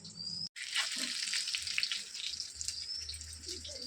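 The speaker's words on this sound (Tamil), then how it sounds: "மீன் வறுவல்" Freshly caught pond fish fries in hot oil for a home Sunday meal, giving a steady, dense sizzle throughout with a brief break near the start and a faint low rumble underneath, no talking.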